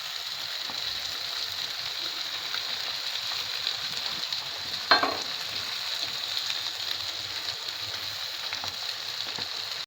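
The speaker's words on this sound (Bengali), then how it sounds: "নাড়াচ্ছি," Cabbage and peas fry with minced meat in a pan while being stirred, a quiet, steady sizzle with one brief scrape of the spoon midway.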